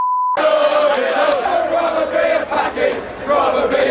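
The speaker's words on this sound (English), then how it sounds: "the atmosphere degenerated, with racist chanting from a section of the crowd" Crowd of football fans chanting together, loud and dense, with voices rising and falling in a sustained roar after a short beep at the start.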